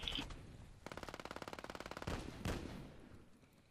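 Automatic gunfire in the online shooter Battlefield Play4Free: a rapid burst of evenly spaced shots rattles for over a second, followed by a couple of heavier blasts and fading echoes, with no talk.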